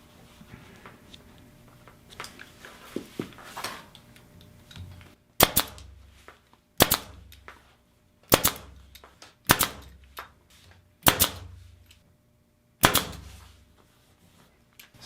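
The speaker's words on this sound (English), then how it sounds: "we'll start firing in these staples" A staple gun fires staples into pool table cloth with six sharp, loud snaps spaced about a second and a half apart. Quieter handling noises of shifting and tucking the cloth come before the snaps.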